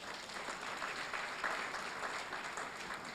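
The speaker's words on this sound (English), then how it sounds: "I think she deserves a round of applause" Steady audience applause at an inaugural law lecture, honoring a woman professor; dense, even clapping from a crowd held at moderate level throughout, slightly distant, with no talk over it.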